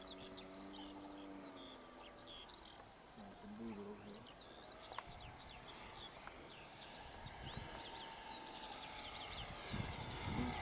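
Electric model Hellcat airplane motor whines in flight outdoors, a thin rising and falling tone under wind noise and distant bird calls, growing slightly louder toward the end.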